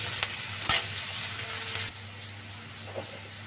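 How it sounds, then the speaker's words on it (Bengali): Chopped onion frying in a pan while being stirred, a steady close sizzle with a brief clatter early on that eases to a quieter, even hiss. "এইভাবে কুচানো পেঁয়াজটা ভেজে নিচ্ছি।"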